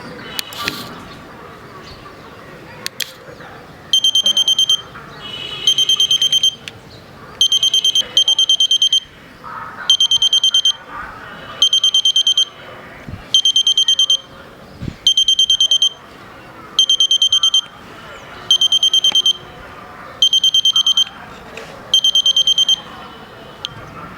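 A toy metal-detecting robot sounds its electronic detection alarm as a string of about a dozen evenly spaced, shrill beeping bursts, loud and close over a faint room background.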